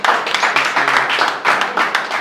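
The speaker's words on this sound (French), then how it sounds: "Est-ce qu'on peut applaudir pour elle, s'il vous plaît?" An audience at a workshop claps steadily for a few seconds, a dense close patter that eases briefly in the middle and then picks up again.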